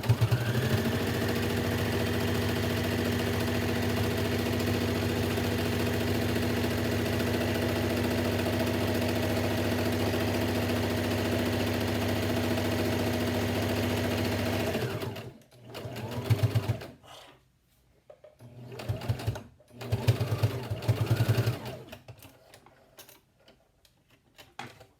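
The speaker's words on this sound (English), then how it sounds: "what I'm going to do is just run a stitch all the way down it" A sewing machine runs a long continuous stitch down a fabric face mask strap for about fifteen seconds, a steady close mechanical whir, then stops and leaves a few short bursts of handling noise.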